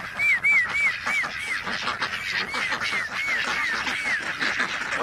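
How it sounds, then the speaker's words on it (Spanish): A flock of ducks and geese in a park honks in a rapid, repeated series of calls, fairly close, over a busy background of rustling and movement. "¿Qué pasó, mis patos?"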